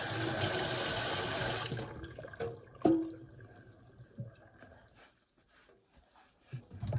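Water from a tap runs steadily to rinse soap suds off a homemade natural soap bar, then cuts off, leaving scattered drips, a clink and small splashes in a quiet room.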